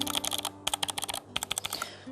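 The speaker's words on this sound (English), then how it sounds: "I'm just gonna put this close up to the mic to let you hear the clicking." Tecware Phantom L TKL mechanical keyboard with blue switches, typed on close to the mic: crisp, rapid clicky keystrokes in three quick bursts with short pauses between, loud and alone.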